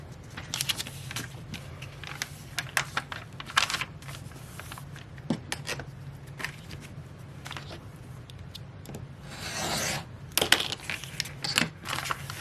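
Fabric for foundation paper-pieced house and fence quilt blocks is trimmed with a quick series of crisp cuts, scrapes and taps close by, irregularly spaced over a faint steady low hum.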